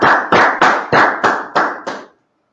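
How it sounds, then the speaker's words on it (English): Class participants clap together in seven loud, evenly spaced bursts lasting about two seconds, each a sharp crack with a short tail. No talking is heard, and silence follows. "Y'all clap it up."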